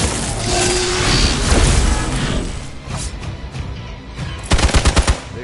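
Rapid gunfire from Marvel's Midnight Suns, a superhero tactics video game, with a sustained burst of shots and crashes followed by a closer, distinct rattle of several rhythmic shots near the end.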